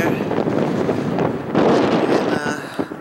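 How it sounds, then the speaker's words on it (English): Strong wind at Edmonton's High Level Bridge over the North Saskatchewan River buffets the microphone in a continuous, roaring rush, with gusts swelling and easing throughout. "Kind of a windy day"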